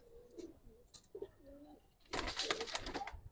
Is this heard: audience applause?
no